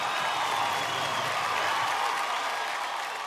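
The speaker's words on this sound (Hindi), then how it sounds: "एक बार जोरदार तालियां फॉर शाहरुख खान" An audience claps for Shah Rukh Khan at a live event, a dense, continuous wash of applause from many hands close by, holding steady at full loudness for a few seconds.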